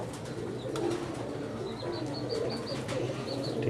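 Teddy pigeons coo in a steady, murmuring chorus, with soft repeated calls rising over a busy low background throughout.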